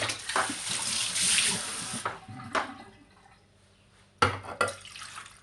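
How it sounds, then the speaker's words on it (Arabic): Half a glass of water splashes into a cooking pot in a steady pour for about two seconds, followed later by a couple of short, sharper splashes. "وكنديروا معاه واحد نص كاس ديال الماء"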